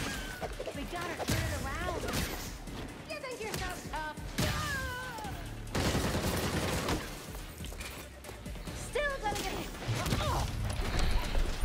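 Bursts of gunfire in a Robin video game crackle amid busy combat noise and clatter, with voices talking and shouting over much of the action.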